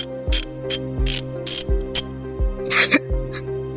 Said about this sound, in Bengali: যাদের স্ক্রু ড্রাইভার আছে তারা এটা দিয়ে করতে পারেন নেবেন নেওয়ার পরে আপনার সহজে এভাবে স্ক্রু খুলে